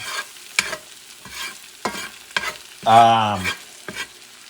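Smoked paprika fries in a pan for pork shoulder in red wine while a spoon stirs it briskly, with repeated scraping strokes over a light sizzle and a brief louder hiss in the middle.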